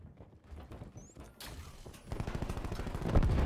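Gunfire in the shooter game Black Ops 4, where a rocket launcher is also in use: bursts of shots crackle in the background, grow denser and louder toward the end, and finish in a heavy volley.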